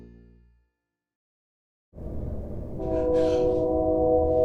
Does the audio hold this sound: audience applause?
no